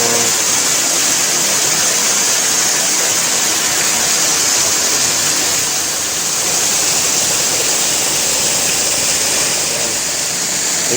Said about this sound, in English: The waterfall.